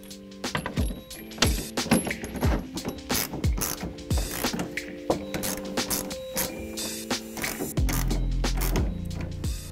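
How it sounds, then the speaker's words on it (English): A ratchet fitted with a 9/16 socket tightens the clamps of a BAKFlip MX4 folding tonneau cover on a 5.5 ft Tundra bed, giving rapid, close clicking strokes in steady bursts with no talk. "you're going to use a 9/16 socket to tighten these down"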